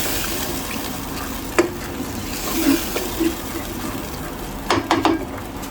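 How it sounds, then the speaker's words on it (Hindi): Chana dal is stirred into spices frying in a pan for dhaba-style achari dal, giving a steady low sizzle broken by a few sharp spoon scrapes and clinks against the pot. "इसमें चने की दाल को मसाले के अंदर डालकर अच्छी तरह मिक्स कर लेंगे।"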